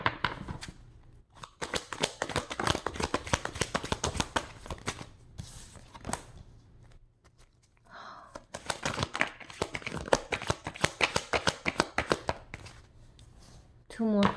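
Tarot cards are shuffled and drawn close by in long runs of crisp riffling, flicking and papery crinkling, with a brief pause midway before the shuffling resumes; a voice talks intermittently over it.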